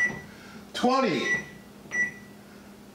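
An oven's timer gives two short electronic beeps as it is set before baking sourdough bread, one at the start and another near the two-second mark, with someone speaking between them.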